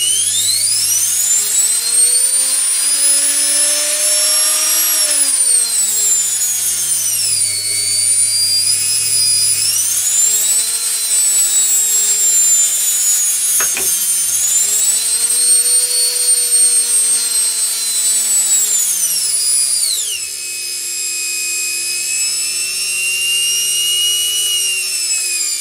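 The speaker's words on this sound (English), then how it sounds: "There you can control the universal motor" A washing machine universal motor runs loud and close under speed control, its high whine and hum rising and falling in pitch several times across the run, then settling lower near the end, with no talking.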